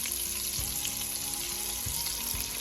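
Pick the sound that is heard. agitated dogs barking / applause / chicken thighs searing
chicken thighs searing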